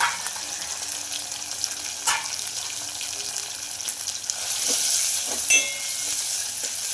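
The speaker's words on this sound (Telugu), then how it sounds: "పొడువుగా కట్ చేసుకున్న ఆనియన్స్ అయితే వేసుకుంటున్నానండి ఇలా సాంబార్లోకి" Long-cut onion slices and curry leaves frying in hot oil for sambar, a steady close sizzle and crackle with occasional stirring clinks and a brief surge of hiss.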